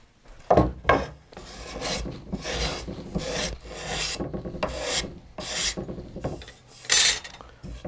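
Glue residue is scraped from a wooden guitar-neck scarf joint in a series of loud, rasping scrape strokes, several in a row with short pauses between them, heard up close with no talking.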